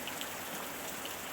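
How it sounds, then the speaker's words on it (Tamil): Heavy rain pours steadily in a forest, a dense even hiss of falling water with scattered drops standing out, close and alone. "அதே சமயம் வெளியில் மழையோட அளவு அதிகமாக ஆரம்பிச்சது."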